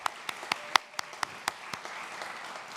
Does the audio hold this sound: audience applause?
yes